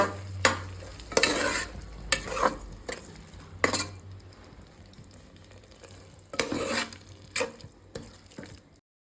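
Tomato puree is stirred into hot oil in a pan during home cooking of tomato rice, with bursts of scraping and sizzling from a spoon moving through the mixture, several loud strokes separated by quieter frying.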